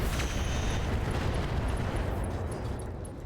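A mech explodes in a RogueTech battle as component explosions go off, a loud, sustained rumbling blast filling the whole moment with dense noise that fades slightly toward the end.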